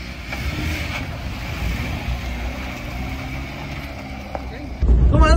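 A Chevy Tracker driving off-road on a dirt trail sends a rough engine and tyre rumble through the cabin, with voices talking over it, before a louder, heavier burst of noise near the end.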